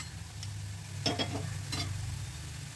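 Stirring a banana stem curry with fried potatoes in a pan: a few brief scraping strokes over a steady low sizzle, close and fairly quiet, with no talk.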